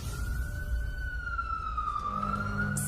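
An ambulance siren wails as one sustained, gliding tone that dips slightly and rises again, heard fairly close over a low rumble of traffic or engine noise.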